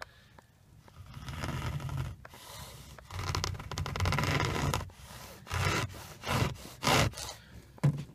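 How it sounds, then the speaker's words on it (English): A Mytee dry upholstery tool is dragged back and forth across car seat fabric, making rough scratchy rasping strokes like sawing, close and fairly loud, in several long passes followed by shorter quick rubs. "You see all the scratches it's making in the fabric?"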